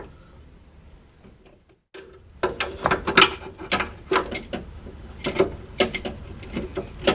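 A 15 mm wrench works a rusted rear brake line nut loose on a Chevy Tahoe, giving a series of close, sharp metallic clicks and scrapes in irregular bursts after a quiet start.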